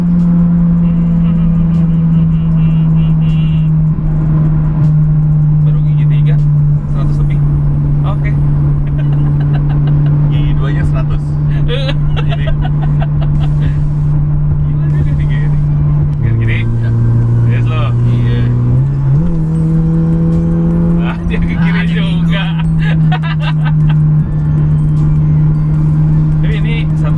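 A car drives in third gear with a steady, loud engine hum heard from inside, briefly dipping in pitch as it shifts before settling again, while people talk throughout.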